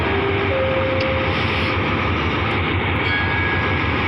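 Rapid train 112 at Chum Saeng station in Thailand, a loud continuous rumble of rolling railcars with faint tonal whines from brakes or motors, close and steady throughout.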